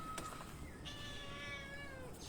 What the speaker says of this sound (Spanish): Uy, ese gato.